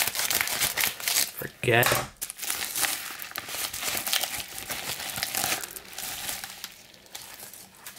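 Someone rips open a mail package holding sports trading cards, with loud crinkling and tearing of packaging throughout and a brief spoken word in the middle.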